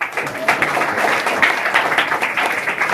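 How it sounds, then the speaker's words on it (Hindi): Students applauding in a school classroom, a steady wash of clapping from many hands that holds at an even level for the whole stretch, fairly close and without pauses. "ताली बजाओ के लिए"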